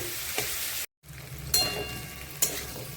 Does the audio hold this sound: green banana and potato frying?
yes